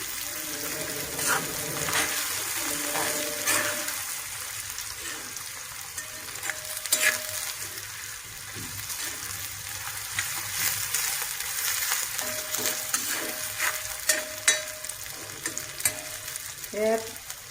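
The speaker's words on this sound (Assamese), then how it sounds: "পিঁয়াজখিনি এনেকৈ তেলত ভাজক, অলপ মজাই লওক পিঁয়াজখিনি।" Onions sizzle and crackle in hot oil while being stirred, the base for a smoked brinjal and fish dish; a continuous close frying hiss with scraping stir strokes throughout and no talking.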